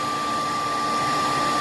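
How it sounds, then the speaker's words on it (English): Hot air dryer blowing steadily at a campsite on the West Highland Way, a constant close whoosh with a fixed motor whine, loud and unbroken with no talk. "Red hot air dryer."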